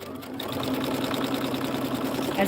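Sewing machine stitching quilt stars, a steady rapid needle rhythm running continuously at moderate volume, close up and alone.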